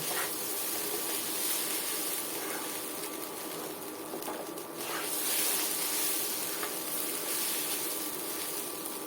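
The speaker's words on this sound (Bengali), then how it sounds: "এখন আমি এটাকে পাঁচ সাত মিনিটের মতো সুন্দরভাবে ভেজে নেব চালটাকে" Rice mixed with fish fries in a pan for plain pulao, making a soft, steady hiss that continues without a break, with faint occasional scrapes and no voices.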